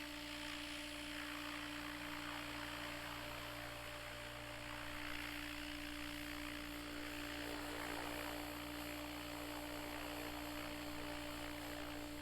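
A Tron Dnamic RC helicopter hovers and sets down nose in, its steady rotor and motor whine droning continuously with a strong tonal hum throughout, no voices.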